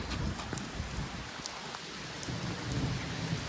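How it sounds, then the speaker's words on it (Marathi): Heavy first rain of the season in a village pours steadily with deep thunder rumbling underneath, amid lightning; scattered sharper drops stand out against the constant downpour. "भरपूर असा पाऊस चालू आहे मित्रांनो विजा बिजा होयला लागले"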